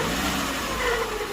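A Maruti Eeco engine with a grinding-noise fault revs steadily, a continuous mid-pitched drone with a rough, scraping edge, close and loud, with no one speaking.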